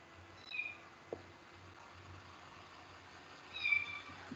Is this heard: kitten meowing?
yes